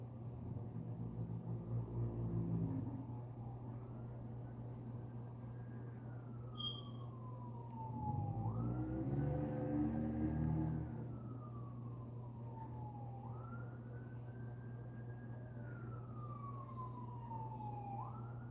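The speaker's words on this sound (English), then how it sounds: "if you hear the ambulance, like I'm listening to it right now, that's perfectly normal" A wailing ambulance siren rises and falls in long sweeps, faint and distant outside over steady low background rumble, with no one speaking.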